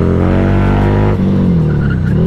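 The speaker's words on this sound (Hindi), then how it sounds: "देख रहे हो टायर्स की आवाज" A motorcycle doing a burnout gives a loud, sustained engine roar with a squealing tire, close and continuous, the pitch dropping partway through.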